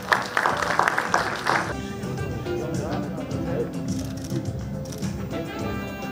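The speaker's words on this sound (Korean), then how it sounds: "축하의 큰 박수 부탁드립니다." At a Social Workers' Day award ceremony in Pyeongtaek, a short burst of audience clapping opens, then fades under a voice speaking over a hall's background.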